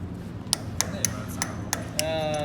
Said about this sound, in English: Look at your hammer.